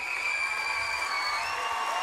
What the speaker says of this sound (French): choristes, Madame, Lara, Fabian, que je vous demande d'applaudir encore une fois